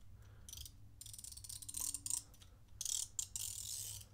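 Socket-set ratchet wrench spinning freely, giving rapid fine clicking in a few short bursts with brief pauses, close but fairly quiet against low background rumble.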